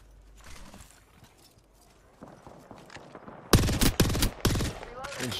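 Gunfire in the battle royale shooter Apex Legends: distant scattered shots at first, then a loud, close burst of several rapid heavy shots near the end.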